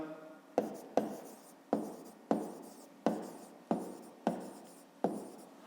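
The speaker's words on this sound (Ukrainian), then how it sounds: "Пишемо А дорівнює." Pen strokes on paper while a fifth-grade math exercise is worked out, eight quiet, evenly spaced scratching bursts each starting sharply and fading, close and alone.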